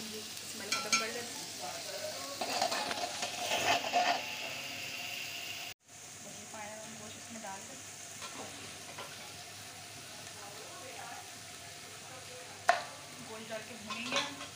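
Beef with ginger and garlic frying for beef yakhni pulao, a soft continuous sizzle with intermittent stirring scrapes, fairly quiet, one brief break and a sharper clink near the end.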